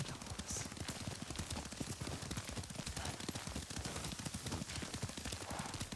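Horse hooves gallop in the video game Ghost of Tsushima, a fast, steady, continuous drumming of clip-clop beats at moderate volume with no voices over it.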